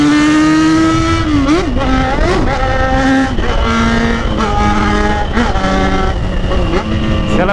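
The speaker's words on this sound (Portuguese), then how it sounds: "Eu só posso falar com vocês enquanto eu acelero a moto." A Yamaha XJ6 motorcycle engine revs loud and close, its pitch climbing and falling in repeated throttle blips over a continuous rumble.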